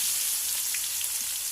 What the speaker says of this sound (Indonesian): Masukkan bumbunya semuanya ke wajan, ke minyak yang panas